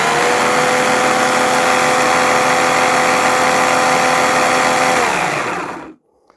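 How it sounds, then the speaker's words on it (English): Loud, steady electric motor whine of a running Ryobi battery chainsaw, close up, holding constant before winding down and stopping abruptly. "So we have a chainsaw, a Ryobi battery chainsaw."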